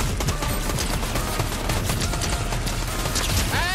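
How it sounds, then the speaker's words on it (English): Rapid Fortnite gunfire rattles in dense, continuous bursts from behind the player, loud and sustained for the whole few seconds with no talk over it. "we're being shot from behind"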